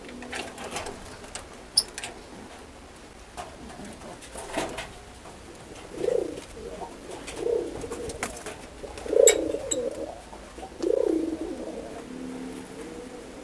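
An adult pet pigeon-type bird gives four soft, low coos at intervals, close by in a quiet room, with faint clicks and rustling between the calls.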